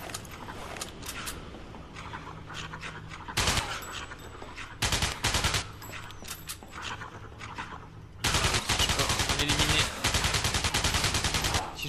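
Laser rifle firing in the sci-fi shooter Alien Breed Impact, rapid bursts of repeated shots with loud, dense volleys in the final stretch, over game ambience.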